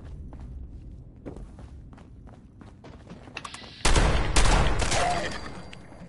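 Gunfire in a video game boss-battle lockdown mission: a quiet stretch of footsteps and light taps, then a sudden loud burst of rapid shots that continues to the end.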